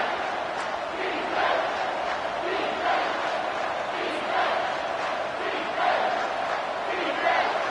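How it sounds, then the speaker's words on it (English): A stadium crowd roars in the college football video game NCAA 25 as the home fans get loud on a third down for Alabama's opponent's offense, a steady, dense wall of noise that runs throughout. "this crowd will blow out a vocal cord to help this defense"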